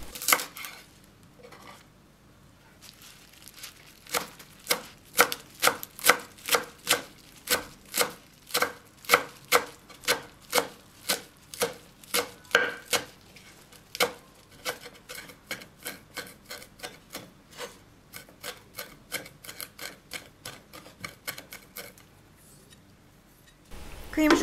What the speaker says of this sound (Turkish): Şöyle 3-4 dakika yoğurduktan sonra bir demet maydanozu ince ince kıydım.